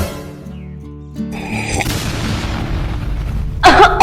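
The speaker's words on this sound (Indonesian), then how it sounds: "Siapa yang lempar petasan tadi?" A thrown firecracker bursts in a street scene, a sudden bang followed by a sustained crackling hiss, with another sharp pop near the end over background music.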